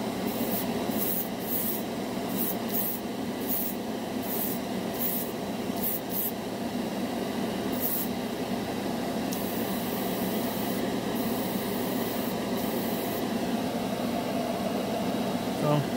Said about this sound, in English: I can tell it doesn't atomize the paint as well.